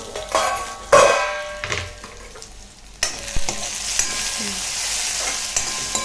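Chopped onion and tomato fry in a pan, sizzling steadily while a spoon scrapes and clinks against the metal in several sharp strokes, close up and with no talking.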